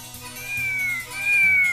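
A cat meowing twice in quick succession, each a clear, drawn-out meow close by over a faint repeating musical background.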